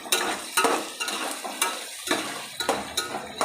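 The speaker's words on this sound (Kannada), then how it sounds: "ಫ್ರೈ ಮಾಡ್ಕೋಬೇಕು" Beans, carrots, green chilies and peas frying for egg fried rice, with a bright sizzle and rhythmic clanks and scrapes of a metal spoon against the pan, close and lively, no talk.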